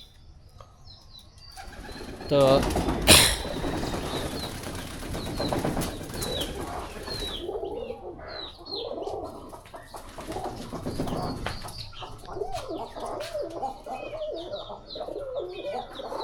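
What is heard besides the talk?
pigeons cooing and flapping wings at home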